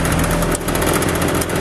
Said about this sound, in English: And the fan motor's running.